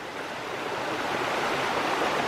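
Thornton River in Shenandoah National Park rushes steadily downstream at a trail crossing, a wide, dense broadband wash of flowing water that stays loud and even throughout with no voices.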